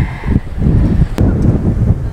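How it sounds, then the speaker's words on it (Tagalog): Strong wind roars across the Tayak Hills summit, a heavy continuous low buffeting against the microphone with gusty swells and one brief sharp knock. "Napakalakas, sobra ng hangin."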